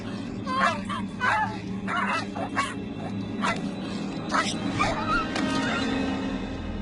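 A dog in a horror drama attacks and bites a young girl, snarling and barking in loud bursts amid frantic screaming and shouting voices.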